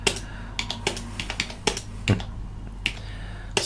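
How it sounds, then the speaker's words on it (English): Computer keyboard keys being typed on in quick irregular clicks, close and clear over a low steady hum, with no talking. "I've been typing this like forever, it seems, right?"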